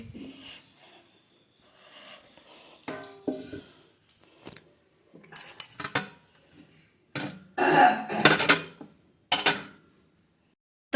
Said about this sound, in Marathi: तोपर्यंत देव वगैरे ताटात काढून घ्यायचे